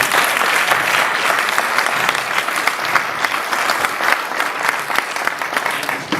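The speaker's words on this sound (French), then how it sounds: "vous allez devoir, n'est-ce pas, applaudir pour elle avant que je vous la présente" A seminar audience at an international training event for consultants applauds the speaker's wife, with dense, steady clapping from many hands that holds at full strength throughout.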